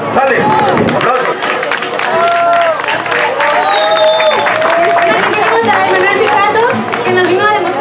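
An audience at a values and entrepreneurship fair in Laguna del Carpintero applauds a performer, with dense clapping and cheering mixed with loud chatter and voices over the crowd.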